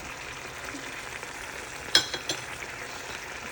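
Adobong sitaw simmering uncovered in a pan, a soft, steady sizzle and bubbling hiss with a single brief clink of a utensil partway through.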